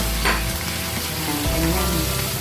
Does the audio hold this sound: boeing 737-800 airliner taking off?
no